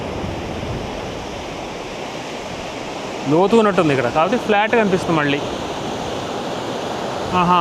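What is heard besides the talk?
waves surging onto the shore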